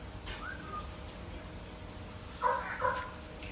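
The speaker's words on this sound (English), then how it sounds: "We have his parrot here." A pet parrot gives a few brief, faint chirps and squawks indoors: one short call early on, then a louder pair near the end, with quiet room noise between.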